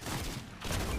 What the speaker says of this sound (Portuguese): Estão tentando atirar em mim.